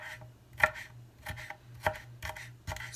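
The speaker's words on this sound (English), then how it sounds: "And then we're just going to cut it into little pieces." Knife chopping and mincing a pepper-like ingredient for canned jelly on a cutting board, about five sharp distinct knocks at irregular spacing over a low steady background hum, with no talking.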